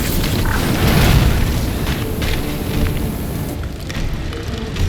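Fuel set alight and exploding in the Resident Evil 2 video game, a loud, deep rumbling roar that swells, holds for several seconds, then eases off slightly.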